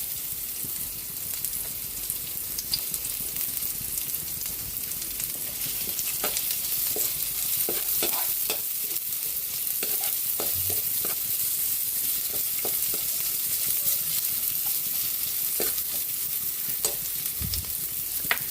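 Onions sizzle in a frying pan with a dense, continuous crackle and scattered pops and stirring scrapes throughout, close and fairly loud, with no speech.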